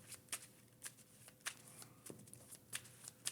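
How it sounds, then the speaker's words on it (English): A deck of playing cards is shuffled during a Marvel Champions card game, giving quiet, repeated crisp riffles and snaps spaced about every half second, alone and close. "And we'll shuffle."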